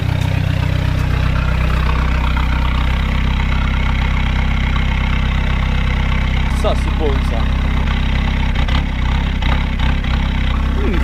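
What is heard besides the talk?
diesel car engine idling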